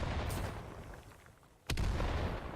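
Grenades going off during a Blitzkrieg Masters competitive shooter match on the Liberation map: a sharp, loud blast near the end cuts in over a rumbling battlefield bed with a softer burst earlier.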